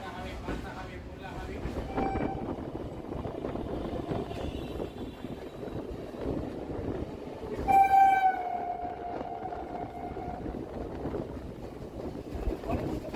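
Sealdah–Namkhana local train on the Sealdah–Lakshmikantapur–Namkhana line, heard from on board as a steady, loud rumble of wheels and carriages, with a brief horn blast around the middle.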